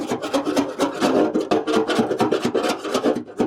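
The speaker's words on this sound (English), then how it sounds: "we are back to my favorite thing in the world, wire wheeling things." A wire wheel grinds and scrapes old, probably original undercoating off a 1964 Nova, a close, loud, rough rasping that pulses in quick uneven strokes.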